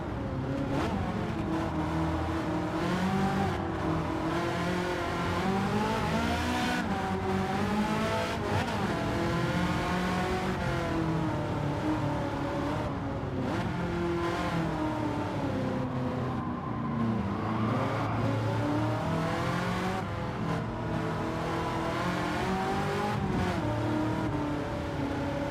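A Ford GT race car in a driving video game, its engine droning and revving steadily and loudly throughout, with rising and falling pitch as it accelerates and shifts, no voices over it.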